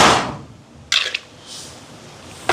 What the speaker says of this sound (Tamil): ஜன்னல் அடிக்கிற அடியை பார்த்தீங்களா